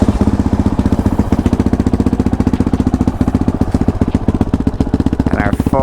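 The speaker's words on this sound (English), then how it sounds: "And our full exhaust, the thunder." A Honda CRF450RL dirt bike engine thumps through a full aftermarket exhaust with a flashed ECU, producing a loud, close, steady rapid pulsing idle throughout, with a brief whine near the end.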